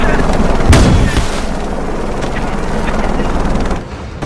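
A loud, dense burst of gunfire comes from an action film about the Lahad Datu conflict. A heavy blast is followed by a continuous rumbling roar of shooting and noise that fades near the end.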